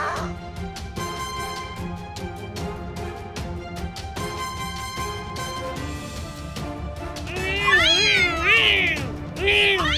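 A giant grumpy cat in a cartoon game meows and yowls loudly over a busy musical score, with drawn-out, wavering cries rising near the end.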